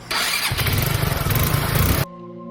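A motorcycle engine on a dark, deserted road at night starts up and revs loudly for about two seconds, then cuts off abruptly.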